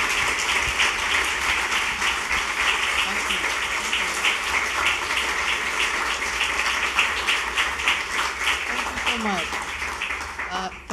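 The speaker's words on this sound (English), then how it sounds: "Please give her another round of applause." Audience applause fills a literary festival hall after an on-stage conversation, a dense, steady wash of many hands clapping at moderate level that continues unbroken and fades slightly near the end.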